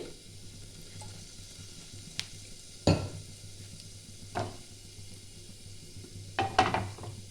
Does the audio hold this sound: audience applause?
no